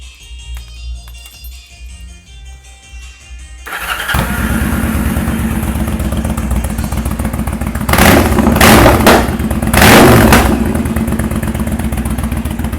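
A Yamaha Dragstar 1100 cruiser motorcycle starts after a few quiet seconds and settles into a loud, steady idle close by, then is revved hard twice in strong bursts before dropping back to idle, with no voices.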